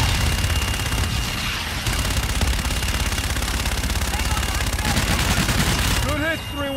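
Dense, continuous bursts of gunfire and explosions from an air strike in Call of Duty: Infinite Warfare, loud and close throughout, with voices talking over the barrage near the end.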